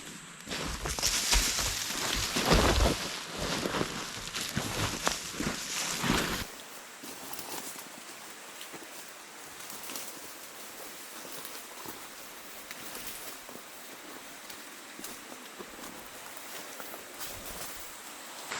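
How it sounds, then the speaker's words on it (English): Rain beginning to fall during a walk through scrub, a loud close rustle and patter at first that settles into a steady fainter hiss of drops for the remainder. "Almost there and it starts raining."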